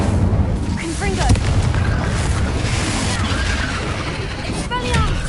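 Incendio and Confringo spell blasts in Hogwarts Legacy, loud booming fiery bursts over a dense continuous rumble, with a voice shouting spells.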